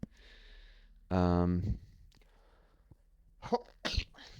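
A single loud, close cough bursts out in a quiet room, followed by a few fainter breathy coughs and sniffs, during a gaming session of Sid Meier's Alpha Centauri.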